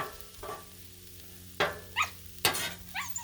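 Beef fried rice with frozen vegetables cooking on a Blackstone griddle, a low steady sizzle broken by several loud spatula scrapes and clanks in the second half, with no talk.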